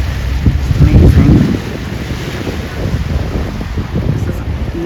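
Nero, a cruising boat on a low autumn river, motors along with a steady low engine drone through buffeting wind noise, a louder rumble swelling early on before settling into an even hum.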